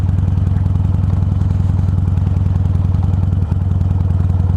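A Harley-Davidson Iron 883 motorcycle chugs along in first gear on a wet road, with a loud, steady low engine rumble and a faint clatter, close up and with no talking.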